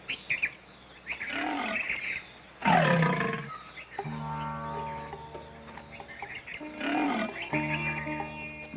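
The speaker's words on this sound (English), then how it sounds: "In appearance, the Asiatic lion closely resembles its African cousin." Asiatic lion roaring, a series of deep, loud grunting roars in distinct bursts with pauses between, close and alone over a quiet outdoor background with some bird calls.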